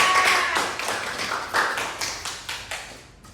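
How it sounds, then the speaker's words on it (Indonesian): Students in a classroom clap for a classmate, a burst of distinct hand claps at an uneven, slowing rhythm that thins out and fades toward the end. "Kita beri tepuk tangan untuk Diandra"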